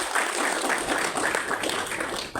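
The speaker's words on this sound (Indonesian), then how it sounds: "Tepuk tangan yang meriah buat anak ini." Audience applause at a church service rolls on as a dense, steady wash of clapping for a couple of seconds, moderately loud and unbroken.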